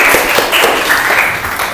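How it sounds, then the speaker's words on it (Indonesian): A classroom of students claps together for a classmate, a brief, dense burst of steady applause filling the room with no talking over it. "kita berikan tepuk tangan untuk Alia yang sudah menghafal semua bagian"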